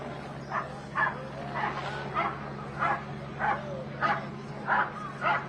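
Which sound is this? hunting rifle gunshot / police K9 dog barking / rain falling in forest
police K9 dog barking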